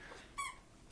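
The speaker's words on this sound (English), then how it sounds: "that's my dog playing with his squeaky toy that he just decided he has to play with right now" A dog playing with a squeaky toy gives one brief, faint squeak in the background of a quiet indoor room.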